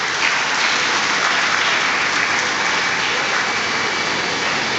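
Dense, steady applause from a large audience at a graduation ceremony for the A.J. Institute of Medical Sciences, filling the whole stretch at close, loud level with no talk over it.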